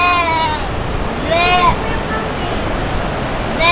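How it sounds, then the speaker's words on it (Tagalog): A goat stuck at a riverside campsite in Pangasinan bleats in a few separate wavering cries over constant rushing water, with people talking nearby. "Naipit yung kambing."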